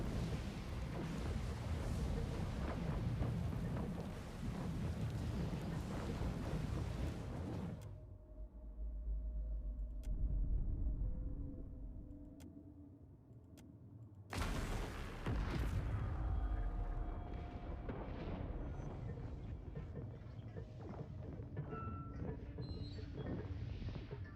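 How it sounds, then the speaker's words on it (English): A storm-controlling machine in Pillars of Eternity 2 winds down, its loud heavy clattering rumble dropping away into a quieter low whir for several seconds before a dense, loud churning roar returns. "The machine controlling the storm winds down. The clattering of its machinery settles into a low whir"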